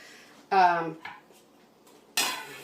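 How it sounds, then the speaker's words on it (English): A metal lid clanks onto a cooking pot of broth in a kitchen, two short bright rattling clatters separated by a quiet pause, close and fairly loud. "Just cover my pot so it can boil quicker."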